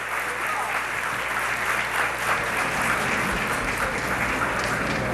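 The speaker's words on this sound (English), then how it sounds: "please give a big round of applause to Secretary Clinton for coming and answering our questions." Steady crowd applause in a hall after Secretary Clinton answers audience questions at a town-hall style event, with the clapping continuous throughout and voices faintly mixed in beneath it.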